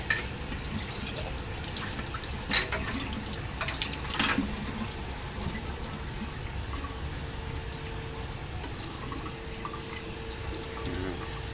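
Faint running water pours steadily into a laboratory sink, a soft continuous splash with a few clinks of glassware, no voices.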